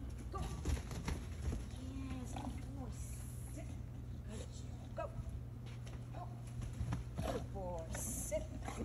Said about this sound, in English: That dog sound like a pig.